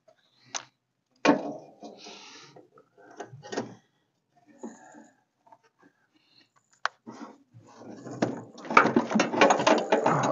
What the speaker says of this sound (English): I dropped that wrench, didn't I?